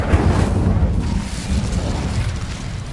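A burst of fiery whooshing roar from an Incendio fire spell in a Harry Potter video game, loud at first then sustained and slowly fading over a few seconds.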